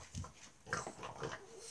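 Dogs romp and scuffle together in play, giving short bursts of snuffling, panting and muffled huffs with rustling movement, fairly close but low in level.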